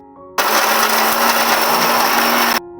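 A mixer grinder grinds fish-fry masala into a smooth paste, a steady loud whirring roar that starts abruptly, runs unbroken for about two seconds, then cuts off.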